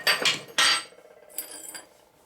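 Two sharp metallic taps from a light hammer on a chisel against a steel Harley-Davidson Sportster flywheel, close and ringing, followed by a quieter pair of lighter taps.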